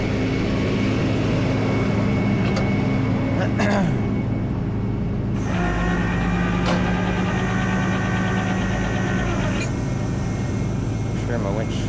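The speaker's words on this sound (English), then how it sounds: "Engage the winch" A tow winch pulling a Maserati, a loud steady mechanical drone with a hum under it, a brief drop near the middle before the pulling resumes, and a voice talking briefly over it.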